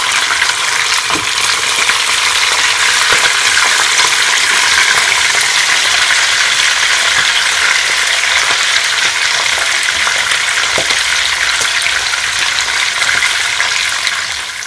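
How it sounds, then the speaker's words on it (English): Fish frying in a pan for teriyaki gives a steady, loud sizzle and crackle that runs unbroken for the whole stretch, with no talking. "So my fish has fried now, guys."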